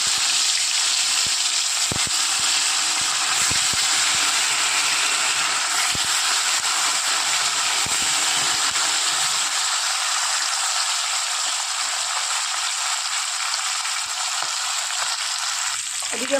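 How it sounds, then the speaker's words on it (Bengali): Pieces of rohu fish frying in hot mustard oil in a kadai, a steady close crackling sizzle that holds without a break throughout, with no talking over it. "এক এক করে মাছগুলো ভেজে নেব।"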